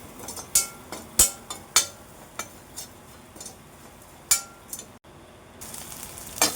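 Garlic fries in a pan for idly podi, a soft steady sizzle broken by scattered sharp clinks and taps of a utensil against the pan, close and moderately loud, with no talking.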